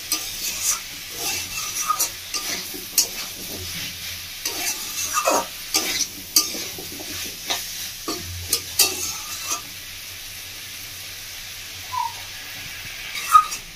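Pumpkin, potato and kabuli chickpea curry being stir-fried in a pan, with a faint background sizzle broken by irregular scraping and clinking spatula strokes across the pan.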